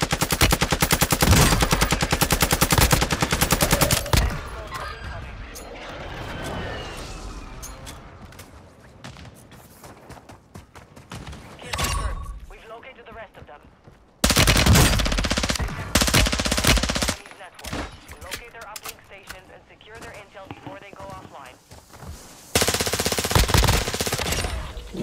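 A Call of Duty Warzone firefight on Ashika Island brings heavy bursts of rapid automatic gunfire, loud and near, broken by quieter stretches of scattered distant shots before more intense volleys return.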